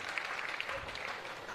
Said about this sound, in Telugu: కనీసం చప్పట్లు కొట్టే ధైర్యం ఉంది తండ్రులందరికీ